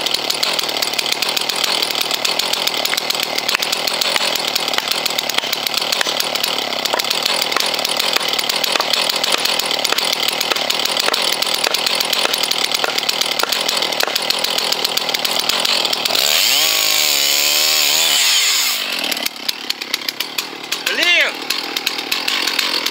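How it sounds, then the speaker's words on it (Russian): A chainsaw roars steadily and loudly while cutting wood for a log cabin, its engine note wavering near the end as the blade gets pinched in the cut, bogs and slows. "Вот у меня зажало пилу, парни."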